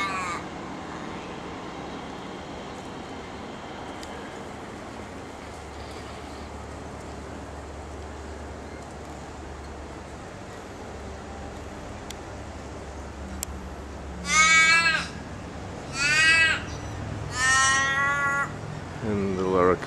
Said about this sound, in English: There's our resident crow.